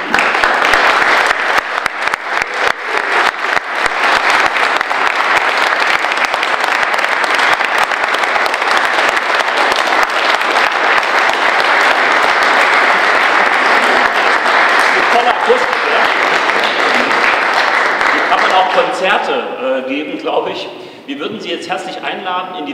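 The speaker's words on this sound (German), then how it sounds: "würde Sie bitten, Ali mit einem Applaus zu danken, dass er diese Werke hier uns zur Verfügung gestellt hat" Sustained applause from a crowd at an art exhibition opening for a pop art artist, loud and continuous for about twenty seconds before tapering off, with voices starting to talk at the end.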